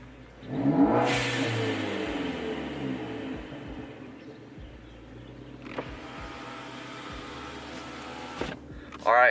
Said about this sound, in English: this is going to be just parked, and then a little rev from inside the car, so you can see how it sounds